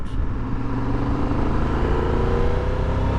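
A 2023 Triumph Tiger 1200 Rally Explorer adventure motorcycle being ridden, its engine a loud, steady, close rumble with a continuous droning roar and no pauses.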